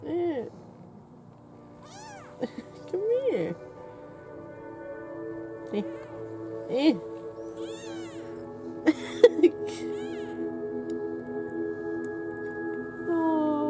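A malnourished kitten meows repeatedly in thin, high, fairly faint cries scattered across the clip, with a person speaking briefly nearby.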